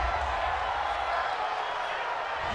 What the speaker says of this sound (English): Well, this crowd does not like that call.